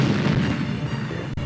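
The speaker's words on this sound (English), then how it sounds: "Amidst shelling and firing" Artillery shelling and gunfire during the 1942 invasion of Corregidor come through as a dense, continuous low rumble of booms and bursts. The sound is loud and sustained, without distinct gaps.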